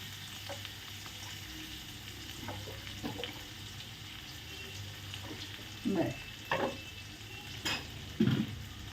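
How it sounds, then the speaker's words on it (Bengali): Onion frying in ghee with a little oil: a soft, continuous sizzle sits low in the background, broken by several clattering knocks and scrapes of a utensil against the pan toward the end. "চলো পেঁয়াজটাকে আমি ভাজি যতক্ষণ পেঁয়াজটা ভাজা হচ্ছে"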